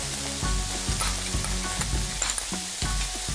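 Prawns and butter sizzle steadily in a hot pan, a continuous crackling fry broken by repeated louder stirring scrapes and clatters, with no talking.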